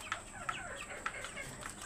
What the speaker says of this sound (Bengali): ডেকি মোরগ দেখেন